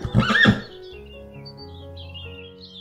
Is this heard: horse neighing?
yes